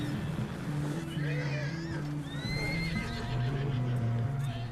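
A horse whinnies in Red Dead Redemption 2, rising and falling calls over a steady droning game soundtrack, with a person talking briefly.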